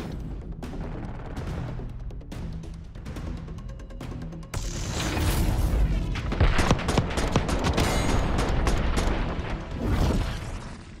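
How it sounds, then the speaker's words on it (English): Dense gunfire in a Call of Duty gunfight, sharp shots and bursts layered into a loud, continuous fusillade that swells after the first few seconds and stays heavy to the end. "Gunfight."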